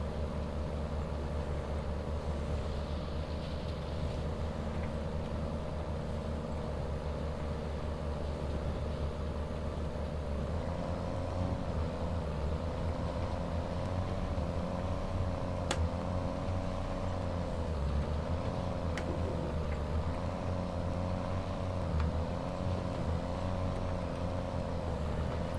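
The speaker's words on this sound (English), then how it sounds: "Miss this tractor when we change it. It's one of the last good sounding ones we've got on the farm." Tractor engine in the Farming Simulator 22 video game, a steady droning motor running continuously and fairly loud on a dairy farm, with slight shifts in pitch as revs change and no talking.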